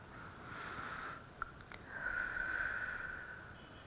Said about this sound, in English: first you take a deep breath